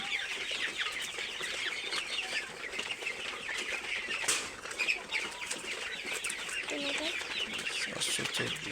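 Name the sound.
chickens flapping and clucking while being weighed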